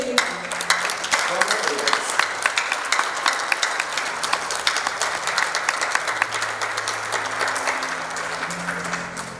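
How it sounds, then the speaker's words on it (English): A conference audience applauds and cheers for the team at a newspaper's tenth anniversary event, a steady dense wash of clapping across the whole stretch with a few voices mixed in. "give an even bigger cheer for the team"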